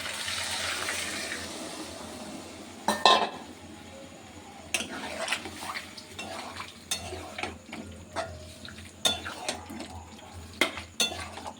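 A spoon stirs soy chili with cornflour water in a pan, sizzling softly underneath while a string of light scrapes and clinks of utensil against metal recurs irregularly, close and moderately quiet.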